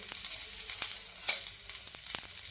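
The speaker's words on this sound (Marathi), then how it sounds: "आतमध्ये गवार टाकून घ्यायची आणि गवारी सोबत छान परत हा लसण परतून घ्यायचा आहे तेलामध्ये" Cluster beans and garlic fry in oil in a pan, a soft steady sizzle with several quick scraping stirs of a spoon, close but fairly quiet and brief, with no speech.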